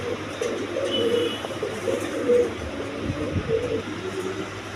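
Big Spanish pouter pigeons coo with low, rolling notes at a regular rhythm, close and clear, against a steady rumbling background.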